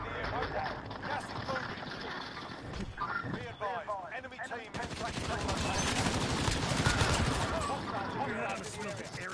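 Rapid gunfire bursts from a Call of Duty Warzone match on Rebirth Island, sharp repeated cracks in quick clusters mixed with players talking over it, fairly loud and continuous across the stretch.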